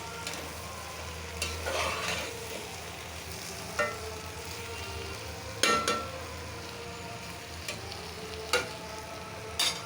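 Tomato and coriander leaves frying in a pan for a winter tomato dal, a steady soft sizzle with occasional scraping stirs and clinks of a utensil, close and alone.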